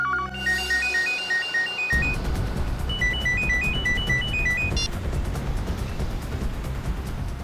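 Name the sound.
phone ringing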